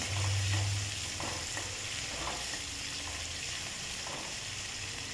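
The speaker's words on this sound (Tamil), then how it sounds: "நீளமாக கட் பண்ண ஒரு பெரிய வெங்காயம் எல்லாம் சேர்த்துட்டு வதக்கிட்டுலாம்" Green chillies and a sliced large onion sauté in a pan, a soft steady sizzle with faint scraping as they are stirred, quiet and continuous without talk.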